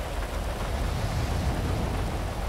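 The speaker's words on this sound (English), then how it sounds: "you got me standing out here in the rain." Steady rain falls in the video game GTA 5, a dense, even hiss of downpour with a low rumble beneath, continuous and fairly loud with no voices.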